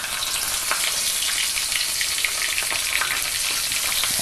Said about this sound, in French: je le plonge directement dans l'huile chaude à l'anglaise